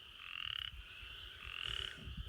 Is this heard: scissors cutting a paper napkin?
no